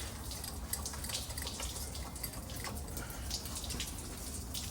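Engine coolant gushes from a 2005 Ram Hemi during a water pump replacement, a steady, heavy rush with constant splashing and spattering, close by, with no voices.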